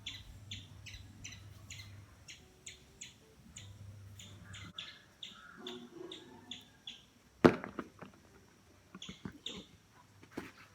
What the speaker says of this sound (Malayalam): കിളിയുടെ സൗണ്ട് കേൾക്കുന്നില്ലേ?